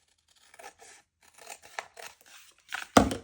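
Scissors snip through a large book cover being trimmed for a junk journal, a run of short crisp cuts and paper crinkles building to a louder, sharper cut near the end, close by with no talking.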